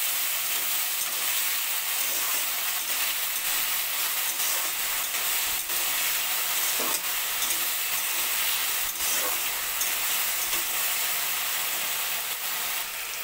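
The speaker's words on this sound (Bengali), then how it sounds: "আলুটাকে লাল করে ভেজে নেব।" Potatoes frying in a pan with salt and turmeric while being stirred, a loud, steady hiss of oil filling the whole stretch, broken by occasional scraping strokes of the spatula, no voices.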